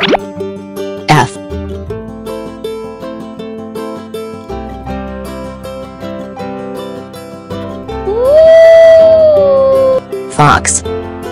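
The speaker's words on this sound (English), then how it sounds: "Fox." A single long, rising-then-falling fox howl sounds over a playful music backing, framed by a couple of short percussive plops.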